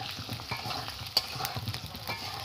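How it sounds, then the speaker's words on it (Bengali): Cut potatoes with salt and turmeric frying in mustard oil in a kadai for a village-style meal, a soft, close sizzle with light stirring clatter throughout and one sharper tap midway. "কড়াই সরষের তেল দিয়ে দিয়েছি আর এখানে কেটে রাখা আলু, নুন আর হলুদ গুঁড়ো দিয়ে খুব ভালো করে আলুগুলো আমি ভেজে নেব।"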